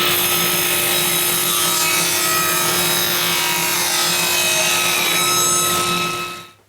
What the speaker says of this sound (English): run all the pieces back through the table saw again